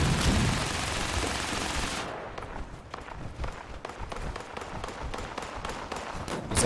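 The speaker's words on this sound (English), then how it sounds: "Is that gunfire ours?" Rapid bursts of gunfire in Fallout 76 during a fight with a mass of ghouls and mutated bugs, a dense stream of sharp repeated shots crackling steadily over a busy game soundscape for several seconds.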